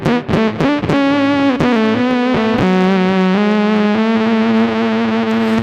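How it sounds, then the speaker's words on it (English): A Roland GR-300 guitar synthesizer plays a loud, buzzy sustained tone with delay, opening with a few quick plucked notes that settle into long held pitches, shifting slightly up and down. "that is the sound of the GR-300."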